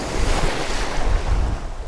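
Strong wind gusting over coastal sand dunes on Yucatan's northern coast, a loud continuous roar of buffeting air and blowing sand with no voices.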